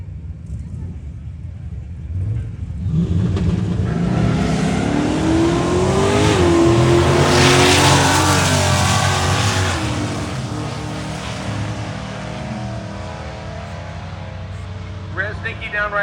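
Engines of a 1969 Dodge Charger RT and a stick-shift Ford Mustang roar hard off the line at a drag strip, revving and shifting through rising pitch sweeps, loud and sustained with a commentator talking over it.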